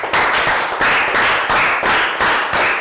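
Children in a Year 3 health education classroom give a round of applause, bursts of loud, close clapping pulsing in an even rhythm of roughly half-second groups, with no talking.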